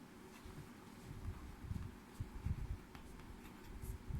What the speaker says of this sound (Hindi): फिर इसमें मैं खदीजा का नाम लिखता हूँ,